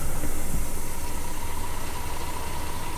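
A coach engine idles in the Fernbus Simulator driving game: a steady, close, low mechanical drone with a faint rhythmic knock that holds evenly throughout, with no talking.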